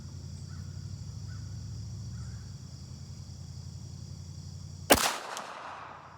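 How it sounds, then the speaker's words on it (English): A single sharp crack from a distant shot, followed by a short ringing decay, in a quiet outdoor setting with a low steady hum. The sound is a 230 grain cast bullet fired from a 300 Blackout rifle striking a steel plate. "You'll hear that 230 grain bullet smacking steel."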